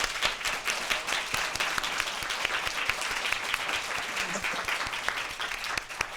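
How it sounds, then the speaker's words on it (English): Audience applause for the panelists at a Michigan Tech education symposium on community partnerships, a steady wash of many hands clapping with distinct individual claps standing out, filling the whole span at moderate level. "let's give a huge round of applause to our panelists"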